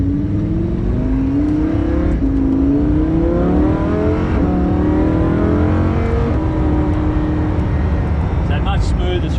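Lamborghini Huracan accelerating from inside the cabin, engine note climbing in repeated rising sweeps broken by quick, smooth dual-clutch gear changes, loud and continuous with faint talk at the end.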